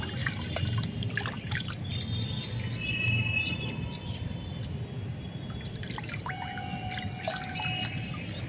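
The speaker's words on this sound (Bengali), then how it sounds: "কোনো রকম সাবান ছাড়াই আমি হাতটাকে এমনিই ধুয়ে নিলাম" Hands are washed without soap in water from a small pan, giving a continuous splashing and trickling wash that runs at a fairly loud, even level throughout, with faint birdsong in the background.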